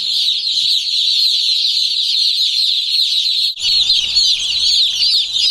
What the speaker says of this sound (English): We put these chicks in here about 30 minutes ago.